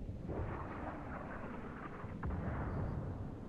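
A World of Tanks cannon fires as a deep, muffled boom over a steady low rumble of battle noise, with a second heavier thud about two seconds later.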